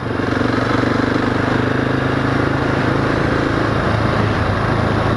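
A 2018 Husqvarna 701 SM motorcycle engine drones loudly and steadily up close while riding, a constant buzzing roar with little change in pitch.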